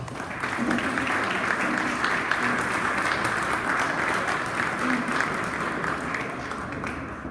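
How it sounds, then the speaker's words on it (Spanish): Audience applause welcoming a guest lecturer at a physical education conference, dense continuous clapping at an even level from start to finish, with a few brief voices mixed in. "recibamos por favor con un aplauso al maestro Osvaldo Antonio González"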